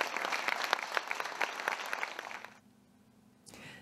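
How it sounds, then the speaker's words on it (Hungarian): A sold-out audience applauds after a concert performance, dense sustained clapping that fades out after a few seconds into near silence before a brief new sound at the end. "Az előadást a teltházas közönség nagy tapssal és jókedvvel jutalmazta."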